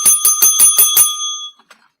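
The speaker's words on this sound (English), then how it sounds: "This one deserves a bell before the fight even starts." A bright bell rings in six quick, evenly spaced strikes before a UFC fight, loud and close, then its ringing tone fades out over about half a second.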